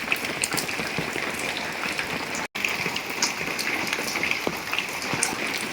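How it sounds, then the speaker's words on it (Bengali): Steady rain falls outdoors in a dense, even patter that stays close and constant, broken only by a brief dropout, with no talk over it. "দেখুন বন্ধুরা কেমন বৃষ্টি পড়ছে"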